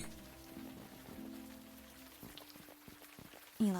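Rain falling in the adventure game Unavowed, a soft steady patter under ambient music tones, with a louder burst at the very end.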